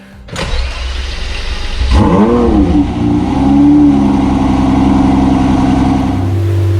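A Lamborghini Murcielago, just repaired after a misfire, cranks over and fires up, then settles into a loud, smooth, steady idle with a low, even rumble.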